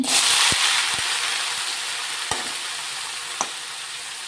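Bitter gourd pieces fry in a pan with a steady broadband sizzle, loudest at the start and easing slightly, with a few soft clicks of stirring and no voices.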